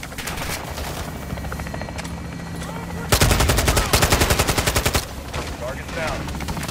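A helicopter gun run in Modern Warfare II co-op night-vision play: a long, loud, rapid machine-gun burst of evenly spaced shots lasting about two seconds, rising out of a steady rotor drone.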